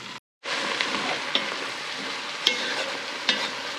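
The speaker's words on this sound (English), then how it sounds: "we're just gonna saute this on medium heat for about 8 minutes until everything is warmed up" Chopped onions sauté in a pan over medium heat with a steady, close sizzle, broken by a brief silence near the start and a few soft clinks of stirring.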